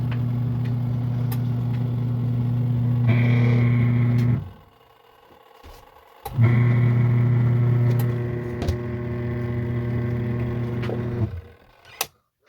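A Castway Mini portable twin tub washer spins with a steady motor hum and faint clicks, stops briefly after about four seconds, then restarts and runs again before cutting off.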